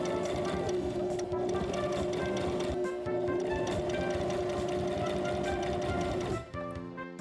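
A sewing machine runs steadily and loudly without pause, stitching a plush toy's head to its body around the neck, then slows and stops near the end.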